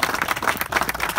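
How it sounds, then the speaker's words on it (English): A small outdoor rally crowd claps for an organiser at a pub campaign event, uneven individual hand claps in a quick irregular patter, fairly close and lively. "So a quick round of applause for Jim"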